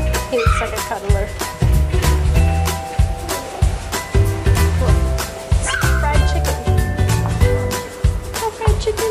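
Puppies yip and bark repeatedly, with whimpers mixed in, close and fairly loud over a busy indoor background with people talking.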